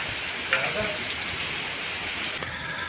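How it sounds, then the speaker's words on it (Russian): Heavy rain pours down in a dense, steady hiss, close and constant, with a faint voice briefly underneath. "Нехило так льет."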